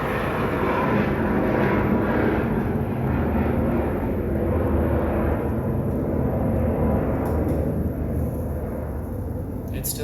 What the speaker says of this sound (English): I'll let the plane go by.